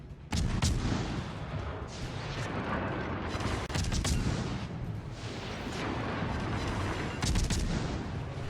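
Naval battle in World of Warships Legends: heavy ship guns boom repeatedly over a constant rumbling wash of battle noise, loud and dense with sharper salvos standing out every few seconds.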